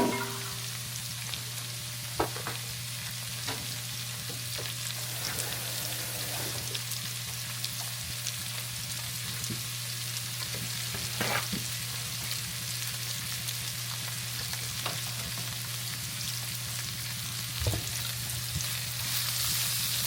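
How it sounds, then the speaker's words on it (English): Rosemary and thyme sautéing in a pan, a continuous soft sizzle with occasional light clicks of stirring over a low steady hum. "And I'm going to saute my rosemary with this."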